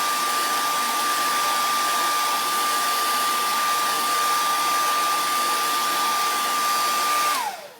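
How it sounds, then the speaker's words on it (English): A handheld blow dryer roars loud and steady close by as it dries a chalk transfer on a DIY board, a constant whirring rush that cuts off abruptly near the end. "I am going to dry that a little bit with my blow dryer"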